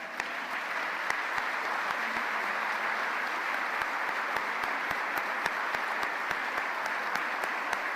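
A church congregation gives strong applause, a sustained, even roar of many hands clapping, with a few sharper individual claps standing out near the listener over the steady crowd wash.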